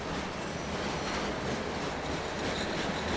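A train rolls past up close near a railroad crossing out in the desert, a loud, steady broadband roar of wheels and cars with faint rhythmic clatter and no voices.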